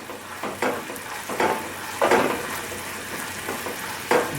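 Vegan dark caramel sauce bubbles and sizzles in a pan on the stove, with steady frying hiss and periodic stirring swishes, close and moderately loud.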